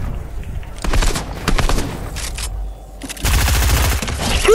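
Fortnite gunfire in bursts of rapid automatic shots, loud and close, broken by a short lull before another heavy volley.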